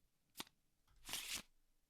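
Game cards for an Arkham Horror card game being flipped and shuffled into a deck: a short snap, then a brief riffling burst, faint and close in a quiet room.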